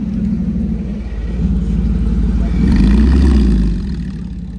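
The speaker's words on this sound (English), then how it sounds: "It's a Bugatti Chiron." A Bugatti Chiron at a car meet gives off a deep, steady engine rumble that swells into a louder rev, then eases, close by and heard on its own.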